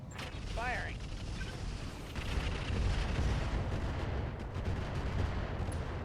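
Mech weapons firing in the RogueTech game, dense mechanical clanks and heavy artillery-like blasts rumbling continuously, with a brief rising electronic whine early on.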